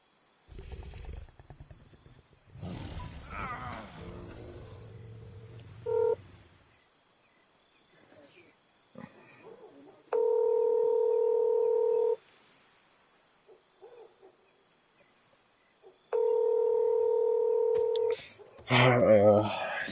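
Telephone keypad tones sound in two long, steady bursts, one near the middle and one near the end, with muffled movement and noises before them and a loud burst at the close.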